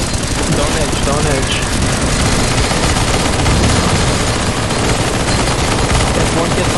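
Rapid, continuous automatic gunfire in a CS:GO zombie escape map on a surf-style facility level, a dense, loud, unbroken fusillade of many overlapping weapons, with people talking over the shooting.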